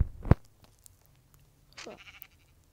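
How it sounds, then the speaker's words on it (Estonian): A sheep bleats once indoors, a short wavering call heard after a sharp thump and some faint knocks, fairly near but not loud. "mida see lammas siin toas teeb?"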